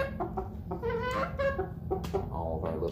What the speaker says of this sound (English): All of our little chickens are just kind of around the camera stand right now.